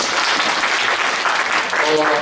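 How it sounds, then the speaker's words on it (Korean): Brief, loud applause from young listeners at a youth history lecture in the Hwaseong Museum, Suwon, a dense burst of clapping with a voice faintly audible toward the end. "박수 한번 줄까요?"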